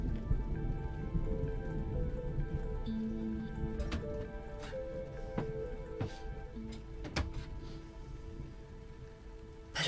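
Rain patters steadily on the roof of a caravan at a campsite, with a dense continuous hiss and scattered sharper drops ticking close by over about ten seconds.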